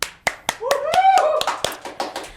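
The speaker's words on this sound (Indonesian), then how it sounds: "Tepuk tangan." Someone claps by hand at a campus gathering, about a dozen sharp, evenly paced claps close by, with a voice talking over the middle of the sequence.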